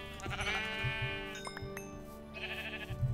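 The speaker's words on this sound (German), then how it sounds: "das ist das schwarze Schaf" A black sheep in the video game Minecraft bleats in wavering, drawn-out calls, one early and another near the end, over a steady layer of game music and ambience.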